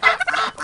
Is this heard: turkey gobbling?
yes